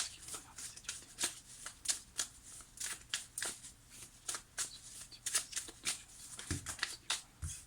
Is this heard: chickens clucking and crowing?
no